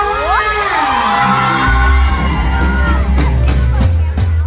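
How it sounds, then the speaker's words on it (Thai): An audience at a stage show at the Wat Pho Chae market fair Expo 2023 applauds and cheers loudly, with whoops and shouts over a deep, booming low rumble that continues throughout. "ขอบค่ณเสียงปรบมือค่ะ"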